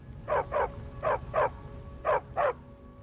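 Dog barking in the video game Skyrim: three pairs of close, loud barks in an even rhythm over a low background hum, with no talking.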